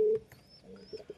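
A pigeon gives a short, close coo at the start, then a few softer coos and chirps follow in a quiet setting.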